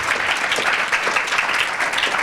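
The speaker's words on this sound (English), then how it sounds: "let's give them all a huge round of applause for this great effort" An audience applauding winter study instructors at a talks event, dense, continuous clapping from a sizable crowd, fairly loud and unbroken.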